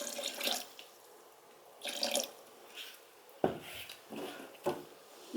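Water is poured in several short splashy bursts into recycled ceramic clay slip in a blender, with quiet gaps between the pours and no voices.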